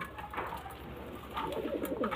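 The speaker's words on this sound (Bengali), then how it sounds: "দেখুন পায়রাগুলো খুব সুন্দর পায়রা" Domestic pigeons kept by a breeder coo softly and close by, with low, rounded calls repeating over a faint background hum.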